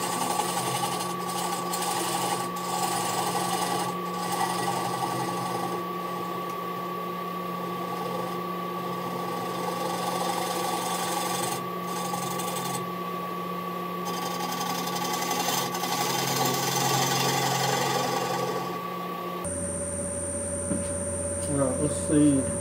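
A wooden bowl spins on a lathe while a tool takes a truing cut around it, giving a steady mechanical whir and hum with a faint scraping edge. The tone changes abruptly near the end.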